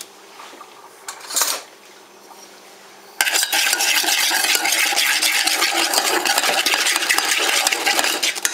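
Batter for an apple and peach cream pie is stirred in a bowl. After a brief clink, a spoon scrapes and knocks steadily against the dish, a close, continuous clatter with no talking.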